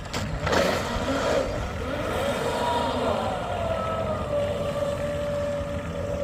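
A Proboat Miss Geico 36 RC boat, a twin 8S setup, runs at half throttle with a steady high motor whine that rises in pitch, over constant water and wind noise.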